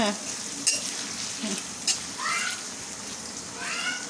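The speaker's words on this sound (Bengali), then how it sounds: "এই যে দেখো এই পেঁয়াজটা হালকা ভেজে নিচ্ছি" Onion lightly frying in a pan gives a steady close sizzle, with brief clinks and scrapes of stirring and a couple of higher chirping sounds partway through.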